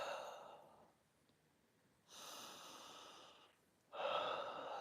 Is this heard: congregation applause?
no